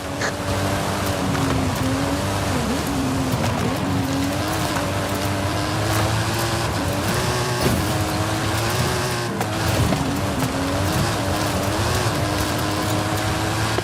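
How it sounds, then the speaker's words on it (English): A custom stunt car with a custom engine and suspension, from the Forza Horizon 5 video game, drives hard uphill, its engine roaring loudly and constantly as the pitch rises and dips through gear changes, with scrabbling tire noise. "That stunt vehicle is a Mike Steel special. Custom engine and suspension."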